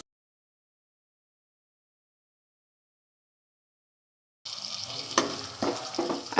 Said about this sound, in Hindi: इस मसाले को थोड़ा भूनेंगे।